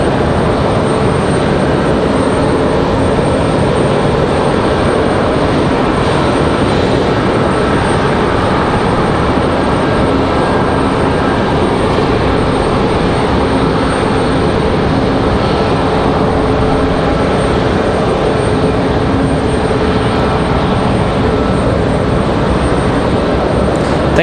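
Spirit Airlines jet airliner from Newark, New Jersey, at Raleigh-Durham International Airport, a loud, steady broadband engine roar sustained throughout with no break, close and continuous.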